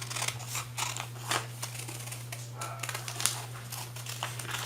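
Scissors snip through dress fabric while a sheath dress with straight armholes is cut out, a quiet run of crisp, irregular cuts with small rustles over a steady low hum, no talking.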